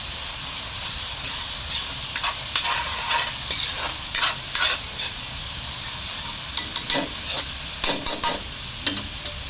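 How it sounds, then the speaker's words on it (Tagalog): Garlic and onion sautéing with tomato sauce for menudo, a steady sizzle in the pan with intermittent scraping and stirring clatters, close and moderately loud. "lalo ko yung ginigisa yun buhay at bawang ah, nilagyan po ng tomato sauce"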